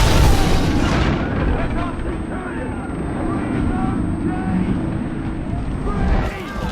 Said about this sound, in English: Incendiaries incoming!